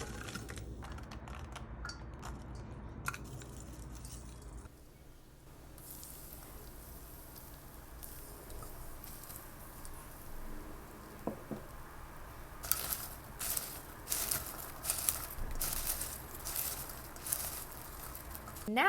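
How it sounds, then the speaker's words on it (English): Homemade popcorn with a spicy twist popping in a pot on the stove: scattered sharp pops over a steady sizzling hiss, with a denser, louder run of pops near the end. "You'll notice that the popping sounds will slow down as World War III comes to a decline"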